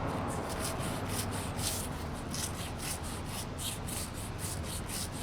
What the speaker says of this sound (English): I'm keeping my brush angled. I'm just allowing the corner of the brush to get into the groove.